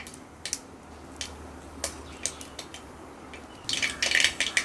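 Mustard seeds spluttering in hot oil in a pan, with scattered sharp pops and ticks that thicken into a denser crackling burst toward the end, close and fairly loud, with no talking.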